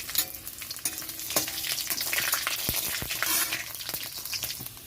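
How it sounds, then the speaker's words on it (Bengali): Nigella seeds and dried chillies dropped into hot mustard oil crackle and sizzle close up, with sharp pops and stirring scrapes over a continuous frying hiss. "তেলটা গরম হয়ে গেছে, তো এখানে দিয়ে দিচ্ছি কালো জিরা আর শুকনো লঙ্কা বেশ কিছুটা"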